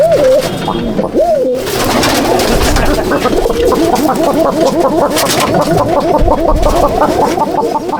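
Magnet pigeons in a loft in Jangipur, Murshidabad coo close and loud, a dense chorus of repeated rolling coos overlapping throughout, with a few wing flutters and no clear talking.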